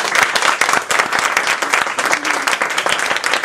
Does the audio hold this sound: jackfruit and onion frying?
no